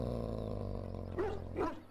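A dog growling in the video game Dragon Age: Origins, a low rumbling growl that swells into two short rising snarls, fairly quiet with no talk.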